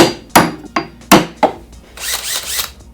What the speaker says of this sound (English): First I'm going to just take a punch and mark a center point